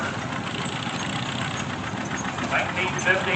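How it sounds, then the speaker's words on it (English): A John Deere R diesel tractor runs at a steady idle in a steam and gas association grand parade, its low engine rumble continuous beneath an announcer talking over it. "Now we got the big boy, the John Deere R diesel."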